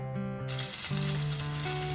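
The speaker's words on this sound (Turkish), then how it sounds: "İlk başta etleri mühürlemekle başlıyoruz." Meat shanks searing in hot oil in a pan, a loud steady sizzle and crackle that swells after a short quieter start, with a low tonal hum underneath and no talk.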